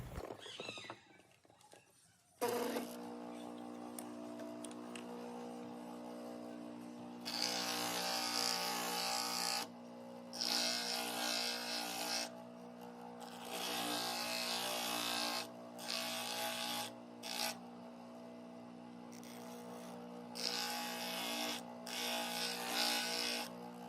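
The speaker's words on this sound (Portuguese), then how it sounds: "Agora nós vamos utilizar uma lixa 220 para fazer o polimento das peças. E para isso nós vamos utilizar o torninho caseiro." Parts for an Opala model car being polished with 220 grit sandpaper on a homemade lathe, a steady motor whine with repeated bursts of harsh scraping that start and stop throughout, no talking.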